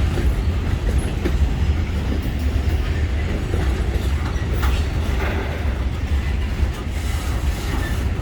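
A Norfolk Southern freight train with three locomotives on the head end slows on the Sunbury Line at Hudson, Pennsylvania. Heavy rumbling and wheel clatter roll on loud and close throughout.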